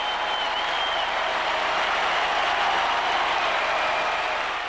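Sustained applause from a large arena crowd at the end of a 1999 field gun race, a dense steady roar of clapping throughout with no pauses.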